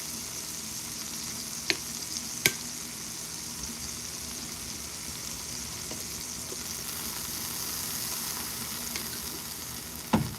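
Steak sizzling steadily in a pan, a close, even frying hiss across the whole stretch with a few isolated sharp clicks and taps.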